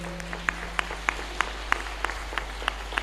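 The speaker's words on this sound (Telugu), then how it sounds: "గట్టిగా చప్పట్లు కొడదాం అందరం" A congregation at a novena Mass claps loudly in steady unison, about ten sharp claps evenly spaced in a brisk rhythm.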